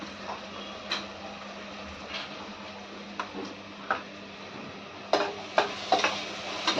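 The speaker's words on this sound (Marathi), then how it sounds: "लसूणचा उग्र सुवास जाईपर्यंत याला आपल्याला परतून घ्यायचा आहे" Ginger, garlic, chili and coriander paste sautéed in butter in a pan, with scattered spoon scrapes and taps over a faint steady sizzle, growing louder and sharper toward the end.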